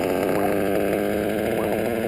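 A modified Novarossi P5XL nitro RC engine idles steadily and loudly, a dense buzzing two-stroke drone held at an even pitch with no talking.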